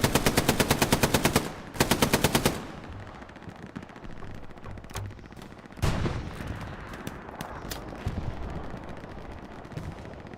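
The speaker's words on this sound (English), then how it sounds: "Artillery from KRC nails that spawn wave off the outpost." Heavy artillery and machine-gun fire in the WWII shooter Hell Let Loose on the Carentan and Utah maps, with loud rapid bursts at first, then booming impacts and crackling gunfire rolling on at mid distance.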